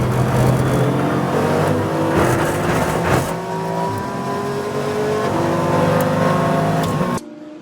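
Race cars, including a Lotus, thunder around the Barcelona circuit with loud, close engines, rising and falling revs and overlapping passes. The roar cuts off abruptly near the end.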